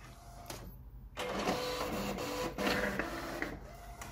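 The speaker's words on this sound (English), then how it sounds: "So yeah, it's printing, and it's printing." A printer prints personalized socks, a close mechanical whirring with carriage movements and short motor tones, moderately quiet and without talk.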